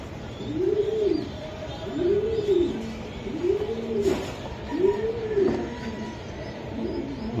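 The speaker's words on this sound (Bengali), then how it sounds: "এই যে দেখেন, আমি আপনাদেরকে দেখানোর চেষ্টা করলাম কবুতরগুলা" Racing pigeon squabs from a club loft coo in a steady rhythm of five rounded, repeated calls, close and clear, with faint background noise and no talk.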